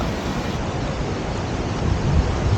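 A flowing stream near a waterfall gives a steady, broadband rush of water that stays even and fairly loud throughout, with no voices over it.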